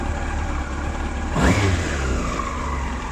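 Yamaha R1 5JJ motorcycle engine running with a slightly lean air-fuel mixture, revving up once as the throttle is gently feathered over a steady idle, then settling back, close and fairly loud with no talk.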